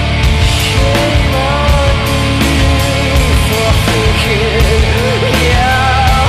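Distorted electric guitar verse patch recreating the studio version of a song, a dense, loud, sustained wall of tone with shifting chords and lead lines running continuously throughout.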